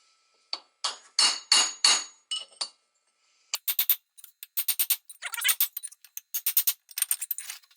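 Sharp metallic hammer blows on a steel punch, driving out a mower deck spindle bearing, a burst of five or six strikes, a pause, then a longer run of quick taps, close and loud.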